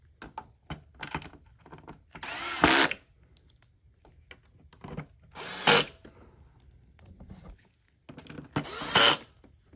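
A power driver spins metal screws into the plastic threads of a Hoover WindTunnel 3 upright vacuum, three loud whirring bursts, close up, separated by light handling clicks and taps.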